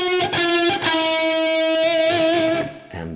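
Distorted electric guitar plays a slow solo phrase, a few sustained bent notes ringing with heavy overdrive, close and alone, fading out at the end.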